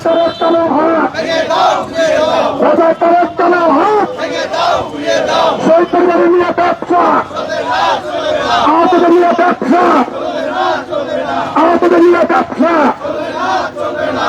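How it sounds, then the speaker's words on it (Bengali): Protesters chant slogans outside parliament, a loud mass of voices shouting rhythmic phrases in unison, sustained and dense throughout with repeated call-like surges. "তারা কিন্তু রাজাকারের বিরুদ্ধে স্লোগান দিচ্ছেন"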